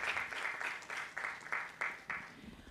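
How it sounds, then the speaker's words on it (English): Audience applause for a keynote speaker at a women's STEM summit: a fairly quiet, steady round of clapping with rhythmic bursts, heard alone for a few seconds. "Yes, a round of applause, please."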